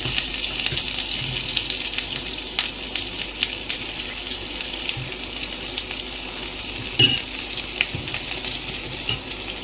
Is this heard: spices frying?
yes